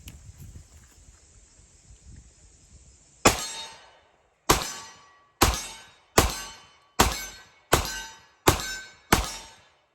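A Springfield RO Elite 10mm pistol with a new 22-pound recoil spring fires PMC Bronze ammunition: eight sharp, loud outdoor shots in a fairly steady rhythm about a second apart, each with a quick decaying ring, after a quiet start.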